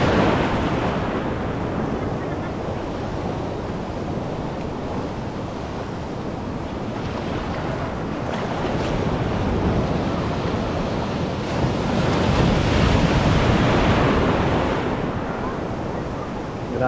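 Large ocean waves crash and roll onto the shore at Tumok Beach in Agno, Pangasinan, a loud continuous surf roar with wind buffeting the microphone and swelling near the end.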